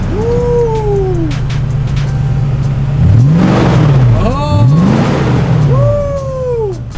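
A Lexus GX460 with an upgraded aftermarket exhaust revs up twice, each rise and fall clear and close over a steady idle, with a voice cheering briefly alongside.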